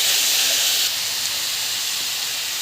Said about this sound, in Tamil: நல்லா வந்து வதக்கிக்கணும்.